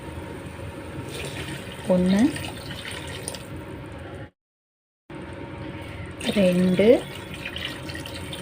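Water streams steadily into a pot of rice for vegetable biryani, a continuous close pour with faucet-like splashing, while a person speaks briefly and a short silent gap breaks the sound midway.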